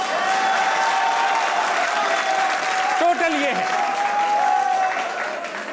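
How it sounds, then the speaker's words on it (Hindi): Studio audience applause on a Pakistani comedy talk show, dense continuous clapping from a crowd filling the whole stretch, loud and near, with a brief voice speaking over it before it tapers off. "वो तालियां बजाएं।"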